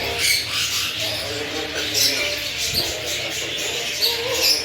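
Caged lovebirds and java sparrows at a busy bird market squawk and chirp in a dense overlapping chorus, loud and close, with market bustle underneath.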